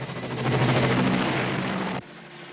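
Loud, steady rotor and engine drone of helicopters in flight, dense and close for about two seconds before dropping sharply to a quieter hum, with no talking.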